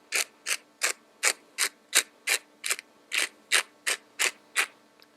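A hand grinder cracks salt and pepper over raw chicken, making about fourteen evenly spaced, close, crunchy ratcheting twists in a steady rhythm, with quiet gaps between them.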